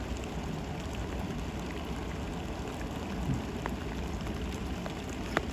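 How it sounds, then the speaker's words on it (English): Icy rain falls steadily in a broad, unbroken hiss in the Columbia Gorge, with occasional louder drops ticking close by and no voices. "This rain is kind of icy."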